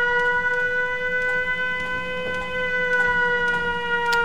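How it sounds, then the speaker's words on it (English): A settlement attack siren from a Fallout 4 mod wails in a steady, sustained tone, loud and continuous, with faint game effects ticking underneath. "You get this siren sound when a settlement is being attacked."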